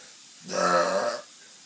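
A single drawn-out human burp, about three-quarters of a second long, rises suddenly from near silence, loud and close with a rough, voiced rumble, then stops abruptly.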